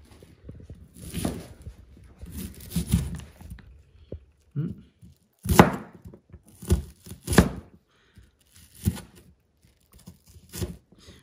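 Vegetables being cut by hand for tchektchouka, Algerian cooking, with a series of crisp, close chopping thuds in irregular clusters, well spaced across the clip.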